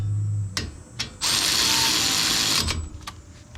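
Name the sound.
ratchet tightening brake caliper bolts on Ford Ranger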